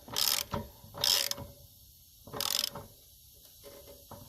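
Wrench ratcheting to tighten a fitting wrapped in Teflon tape on a Forest River Geo Pro G19FD RV during winterizing, heard as three close bursts of rapid ratchet clicks separated by pauses, with no talking.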